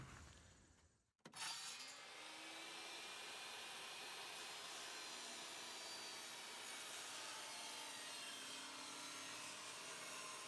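A SawStop jobsite table saw rips wood along its rip fence: a sharp start gives way to a steady, loud whining drone that holds evenly throughout, with no voices.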